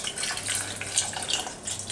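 Water trickles and splashes into a pan of onions, butter and sugar, a steady close pouring sound with small bright splatters, no talking.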